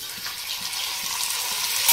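Tomatoes go into a pan of well-sautéed onions for a bitter gourd tamarind kulambu, setting off a steady, bright hissing sizzle that runs unbroken and close for the whole moment.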